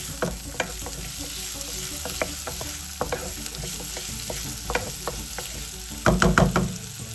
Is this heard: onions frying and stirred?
yes